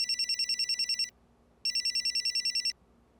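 A mobile phone rings with an electronic ringtone in two clear bursts of rapid pulsing tones, each about a second long, separated by a brief pause, loud and close with no talking.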